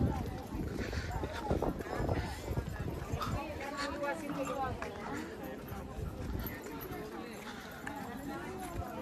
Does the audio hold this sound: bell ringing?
no